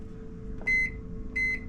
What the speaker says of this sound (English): I don't know if it'll run the microwave. Let's hit the button, see what happens.